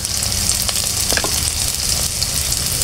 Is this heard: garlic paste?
yes